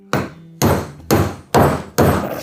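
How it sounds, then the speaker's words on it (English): Five loud, sharp hammer blows driving nails in, evenly spaced about half a second apart, each ringing briefly before the next strike. "now I'd like you to just hammer both of them in like this"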